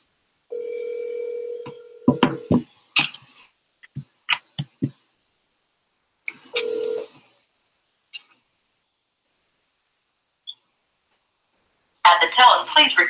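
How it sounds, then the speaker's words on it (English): A telephone dials a number and rings, with a steady tone, a run of short clicks and beeps, a second tone burst, then a rough burst of line noise after long silence. "So I'm gonna call the number right now."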